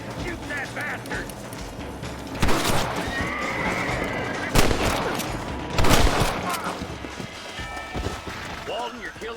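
Gunshots in the Western game Red Dead Redemption, several sharp bangs spaced a couple of seconds apart amid horse whinnies and hoofbeats, with voices talking over the action.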